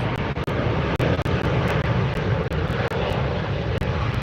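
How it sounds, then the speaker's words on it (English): Loud, continuous roar of jet airliner engines at close range during takeoff at LAX airport, broadband and steady with slight fluctuations. "Listen to the thunder of those engines."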